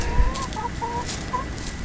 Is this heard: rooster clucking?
yes